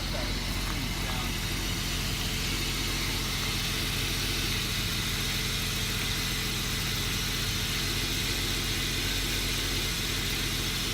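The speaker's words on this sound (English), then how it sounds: "It's got a very nice, low intake noise, really deep." A car engine idles with a steady, deep low rumble and a constant hiss, with faint voices in the background.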